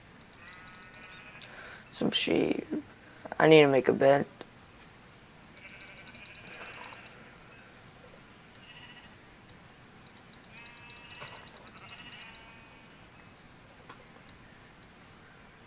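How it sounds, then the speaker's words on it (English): Sheep bleat twice in Minecraft, a few seconds apart, amid quiet ticking game sounds, with a person talking. "Let me kill some sheep."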